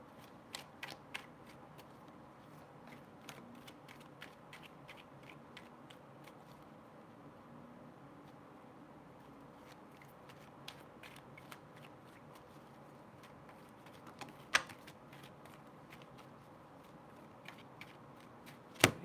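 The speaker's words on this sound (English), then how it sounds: "I'm having the hardest time shuffling this deck right now" Tarot cards riffle and flick in quiet, irregular bursts throughout, soft papery snaps with a few sharper taps, no voices.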